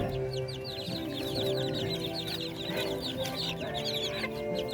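Filipino chickens of the darag and naked neck breeds cluck and chatter softly in a farm yard, several birds overlapping in a faint, continuous stream of calls.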